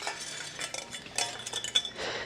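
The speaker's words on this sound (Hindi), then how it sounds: "चाय बनाया था तो चाय का बर्तन धो लेता हूँ मैं" A metal tea pot used for making chai is scrubbed and rinsed in a home kitchen, with close, irregular clinks, scrapes and sloshing water in quick succession.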